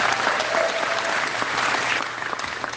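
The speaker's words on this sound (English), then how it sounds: "Let's give them a big round of applause." Crowd at a Canadian political rally applauds, dense continuous clapping holding steady and fairly loud throughout, easing slightly toward the end, with no talk over it.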